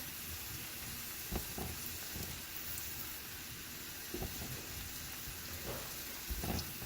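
Shallots browning in a pot give off a steady, moderate sizzle and hiss, broken by a few brief scraping knocks as they are stirred.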